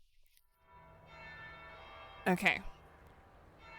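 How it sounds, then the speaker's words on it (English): A single bell struck in Dragon Age: Inquisition, one bright ringing hit that rises midway through over a quiet sustained tone, with a short spoken word near the start. "So got a bell ringing"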